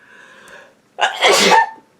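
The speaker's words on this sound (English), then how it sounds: "no more sneezes" A single loud, explosive sneeze close by, preceded by a brief soft intake of breath.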